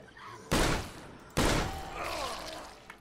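Gunfire in the zombie game State of Decay, two loud sharp shots about a second apart, each with a long rumbling tail, followed by a softer mid-level rumble.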